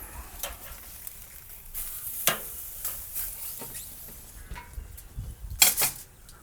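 Flank steak sizzles in a hot pan right after being flipped, a soft steady crackle with a few sharper spits and pops spread across the moment, close by and with no talking.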